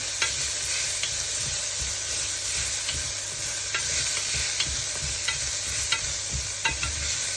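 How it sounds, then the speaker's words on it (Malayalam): Garlic stirred and frying in a pan for lentil soup, a steady bright sizzle with scattered scrapes and clicks of the utensil against the pan, close and continuous with no talk. "ഈ വെളുത്തുള്ളി, ഗാർലിക്ക് മിക്സ് ചെയ്ത് വെച്ചിരിക്കുന്നത് അതിനകത്തേക്ക് ആഡ് ചെയ്ത് കൊടുത്ത് ഒരു ഗോൾഡൻ കളറിലേക്ക് ആവുന്നതിന് വരത്തേക്കിന് ഒന്ന് സ്റ്റിർ ചെയ്ത് കൊടുക്കാം"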